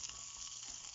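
Onions sizzle gently in a pan over a low flame, a soft, continuous hiss with faint crackles, brief and quiet with no voices.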